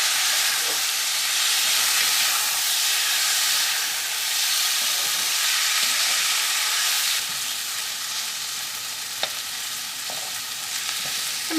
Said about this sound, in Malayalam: ഇനി നമുക്ക് ഇതിലേക്ക് നമ്മൾ വേവിച്ച് വെച്ചേക്കണം മീൻ ചേർക്കാം. ഇനി നമുക്ക് നന്നായിട്ടൊന്ന് മിക്സ് ചെയ്യാം.